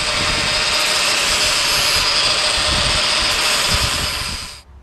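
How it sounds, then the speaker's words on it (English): Grinder sanding a homemade stainless steel steering link for an Axial SCX10 crawler, a continuous loud high whine held steady for several seconds before cutting off abruptly. "I'm going to take this stainless link here and I'm going to sand it up real nice"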